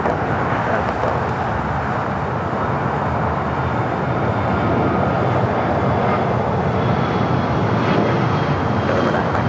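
An Airbus A380 airliner taxis at LAX, turning onto a taxiway, its jet engines a steady broadband roar heard from a distance, with faint radio talk in the background.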